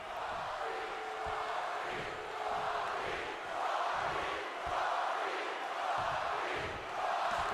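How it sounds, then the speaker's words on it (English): A wrestling crowd in the WWE 2K22 video game roars and cheers in broad swelling waves, a dense continuous arena wash without clear single voices. "Crowd's firmly behind The Rock as well."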